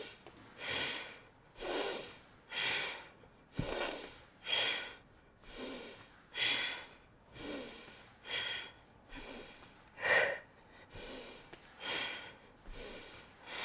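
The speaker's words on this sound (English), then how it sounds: "I'm going to breathe with you." Slow, rhythmic breaths from a yoga instructor during leg lifts, a dozen soft inhale-exhale swells spaced about a second apart, close and quiet, alone without talk.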